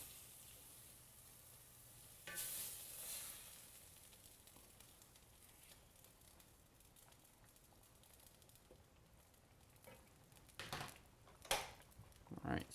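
Steaks simmering in a pan of pepper steak sauce, a quiet, steady bubbling sizzle heard up close, with a few louder clatters and scrapes toward the end.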